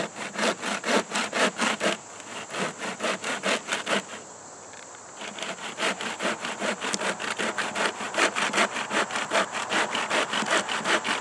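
A handmade bushcraft bucksaw built from sticks cuts through wood in quick, rhythmic back-and-forth strokes, close and clear, with a short pause midway before the steady rasping resumes.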